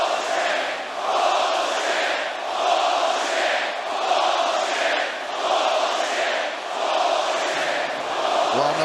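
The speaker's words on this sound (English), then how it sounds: "Well, no surprise the crowd doesn't like it." A large arena crowd at a mixed martial arts fight between Jorge Masvidal and Nate Diaz keeps up a loud, steady roar of displeasure, swelling and easing in waves.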